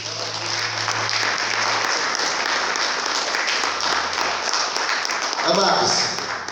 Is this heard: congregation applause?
yes